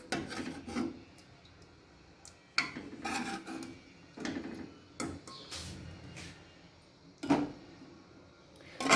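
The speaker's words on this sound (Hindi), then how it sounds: "Let's do the plating" Chicken curry being plated, with a spoon scraping and clattering against dishes in scattered bursts of rasping contact and clinks, fairly close, with no talking.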